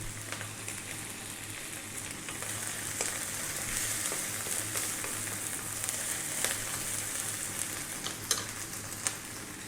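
Fresh chili added to a prawn curry base of garlic ginger paste, frying with a soft, steady sizzle and occasional stirring clicks, moderately quiet and close.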